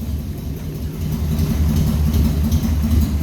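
A motorcycle-powered buggy engine running at a steady, rumbling idle, loud and close with a rough low throb that builds slightly and holds.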